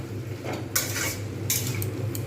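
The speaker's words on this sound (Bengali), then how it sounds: "জাস্ট একটু ঘেঁটে দেবো কিছু আলু" A spoon scrapes and clinks against a pan while cooked spinach, bottle gourd greens and potatoes are stirred into a chorchori, two or three short metallic strokes, close but fairly soft, with a low hum underneath and no voices.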